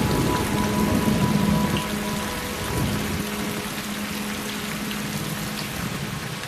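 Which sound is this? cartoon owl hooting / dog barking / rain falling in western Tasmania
rain falling in western Tasmania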